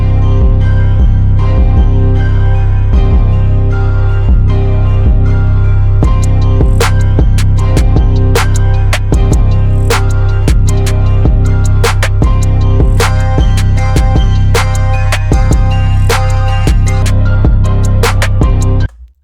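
A loud, steady drum loop made in FL Studio, pitched up an octave, with heavy low bass tones and crisp hits, slowed into a halftime feel, playing continuously before cutting off abruptly.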